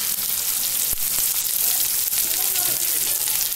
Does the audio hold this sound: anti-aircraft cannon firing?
no